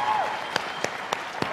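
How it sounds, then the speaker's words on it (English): Audience applause at a live comedy show forms a steady, dense wash of clapping with a few sharper individual claps standing out, and a voice is heard briefly at the start. "Cori, Mel, Joseph, Laura, give them a big round of applause, please, for being here today."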